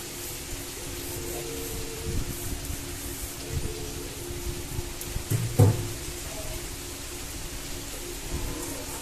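Steady rain with gusty wind, a continuous soft wash of drops and blowing air, with occasional knocks and one brief louder thump midway.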